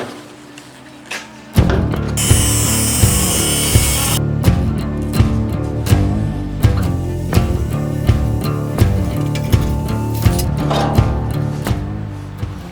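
A power saw cuts off rusted fender metal on a 1948 GMC truck, loud and close, with a harsh grinding, rasping cut that pulses and surges repeatedly after a quieter start.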